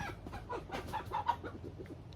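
Chickens clucking softly at a distance, a scattered run of short calls over a quiet outdoor background.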